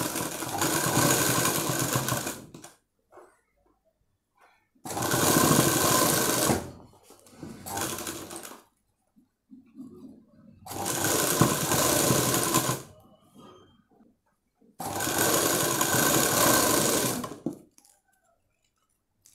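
A tailoring sewing machine stitches a frock hem in loud bursts of rapid, steady whirring, with five runs separated by near-silent pauses.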